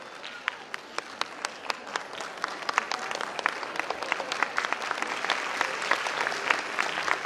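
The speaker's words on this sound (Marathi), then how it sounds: "जोरात टाळ्या वाजवायच्या त्यांच्यासाठी" Parents at a school annual day ceremony clap for a guest in a sustained burst of applause, with sharp individual claps standing out in a dense, steadily building patter.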